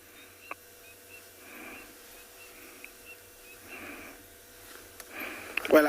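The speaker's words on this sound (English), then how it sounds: "You can hear the birds at a distance. Cocky francolins." Coqui francolins call far off during a sunset safari, a series of faint, repeated short calls rising at intervals over a quiet background.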